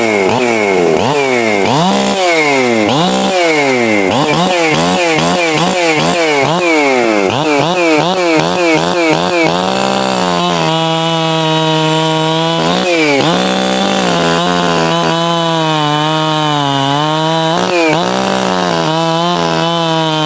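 A 60cc chainsaw with ported cylinder and ported muffler cutting through wood: loud, close engine wail rising and falling with revving, then settling into a strained, steady bite under load, with no voices.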